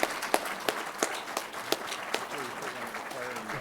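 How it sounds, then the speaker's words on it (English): Scattered clapping after a talk on large carnivore management in Wyoming, with a few sharp individual claps standing out over a dense wash and faint voices underneath. "can we just give our speaker a round of applause?"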